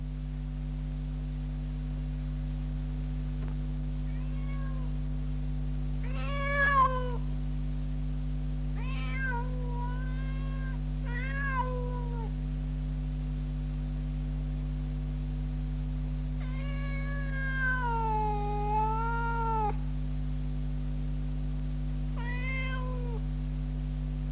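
Wildcats meow at a care centre: several drawn-out, wavering cries and shorter mews spread across the stretch, some faint, some clearer, over a constant low electrical hum.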